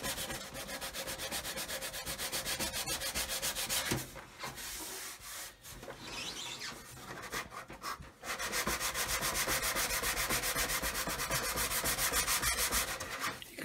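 Steady rhythmic rasping of a sanding block rubbed back and forth over a painted 1/200 scale model Titanic hull, close up, with a few brief pauses between strokes.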